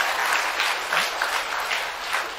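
Dense, continuous applause from a church audience at a spiritual talk, clapping steadily with gentle swells, no voices over it.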